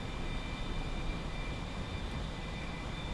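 A small aircraft's engine roars at full throttle, a steady, loud, continuous drone with a faint high whine.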